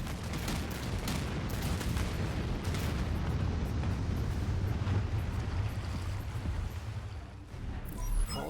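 Nuclear missiles strike a ship in the video game Anno 2205, a continuous loud roar of rumbling explosions and booms sustained throughout with no talking.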